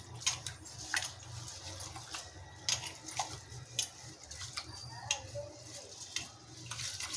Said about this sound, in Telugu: ఇప్పుడు వాటర్ పోసి కడుకుందాము